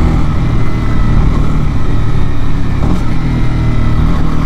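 A Honda CB300R motorcycle engine accelerating out of a bend, a loud, steady, close engine drone with heavy low rumble and no distinct gear changes.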